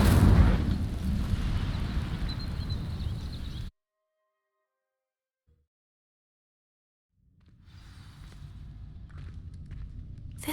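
The Incendio fire spell in Hogwarts Legacy lets out a loud, rushing burst of roaring noise that cuts off abruptly into silence before a quieter rumble with crackling texture returns.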